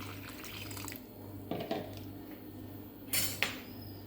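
Cold water poured from a tap onto pressure-cooked jackfruit seeds in a metal pot, a soft running splash with a couple of clinks of the vessel, fairly quiet and without talk.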